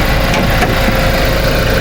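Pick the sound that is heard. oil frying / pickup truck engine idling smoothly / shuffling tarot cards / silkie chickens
pickup truck engine idling smoothly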